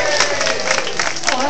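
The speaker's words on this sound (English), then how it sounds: "Applause for a mugging." Audience applause at a zombie-themed show: a short, dense burst of clapping and crowd noise, steady and fairly close throughout.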